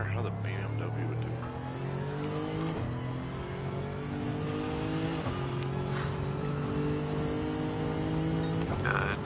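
Gr3 BMW Z4 race car in a racing video game, its engine droning steadily at high revs with repeated gear-shift drops and rises, continuous and close throughout.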